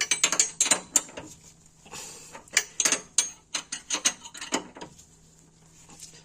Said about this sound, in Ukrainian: Потрібно протягувати ключем.